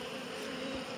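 Forage honey bees at a nuc yard buzz in a steady, close drone, many wings blending into one continuous hum.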